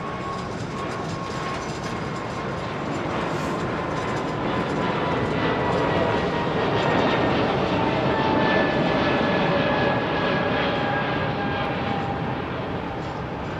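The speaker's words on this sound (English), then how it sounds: "Lovely Airbus A220 with Swiss Airlines." A Swiss Airlines Airbus A220 jet at London Heathrow makes a sustained, rushing engine roar with faint whining tones, building gently and holding steady, with no talk over it.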